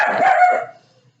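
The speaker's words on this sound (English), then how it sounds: "Excuse my guard dog." A guard dog lets out one loud, close bark that quickly fades to silence within about a second.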